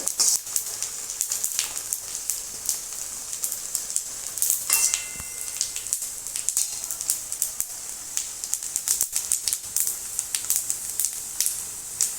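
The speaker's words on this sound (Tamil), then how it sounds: "பாருங்கள், இந்த சவுண்டு பாருங்கள், கடுகு வெடிக்குது." Dense, continuous sizzling crackle of mustard seeds popping in hot oil, with scattered sharp pops over a steady hiss, close and fairly loud, no talking.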